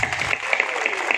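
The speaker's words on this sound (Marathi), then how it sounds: "आणि एकदा केतन दादासाठी जोरदार टाळ्या होत्या." An audience at a Chhatrapati Shivaji Maharaj Jayanti celebration claps in a brief burst of applause, a dense crackle of many hands heard at moderate distance.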